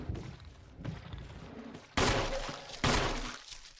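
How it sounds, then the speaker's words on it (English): Gunfire aimed at a zombie in Resident Evil HD Remaster, heard as two loud, sharp shots about a second apart, each leaving a short decaying tail over quiet game ambience. "I'm going to start shooting him"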